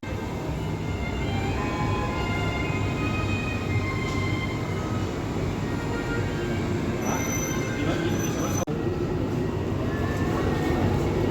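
Singapore metro train running near Little India station, a loud continuous rumble with squealing wheels and rail noise throughout, plus a brief clunk near the end.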